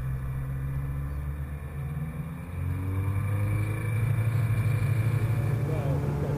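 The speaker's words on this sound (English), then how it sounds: "When the engine is warm, jam the throttle to the stop and go." Light aircraft's liquid-cooled piston engine with FADEC control roaring at full throttle for takeoff, a loud sustained drone that rises in pitch and intensity partway through, steady and close.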